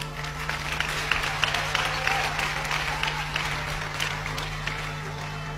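A church congregation claps during a sermon, a steady, moderately loud wash of applause mixed with crowd noise and a low constant hum.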